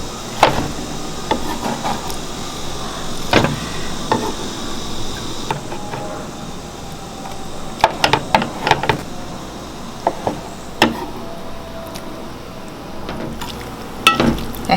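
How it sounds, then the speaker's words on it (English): Grilled eggplant, tomatoes and pistachio cilantro sauce are mixed in a bowl, with a soft wet shuffle and irregular close clinks and taps of a utensil against the dish. "So I'm mixing everything well, and I need to add some salt."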